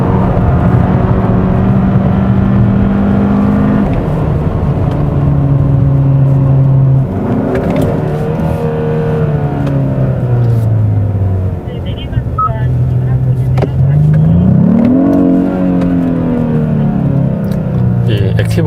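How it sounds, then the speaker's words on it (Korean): A loud 2021 Hyundai Sonata N Line engine, with engine sound mode off, revs up and down through several gears on a race circuit, its pitch rising and falling steadily, heard from inside the cabin. "방금 들으신 것처럼 끄기 상태에서도 엔진 소리가 작진 않거든요"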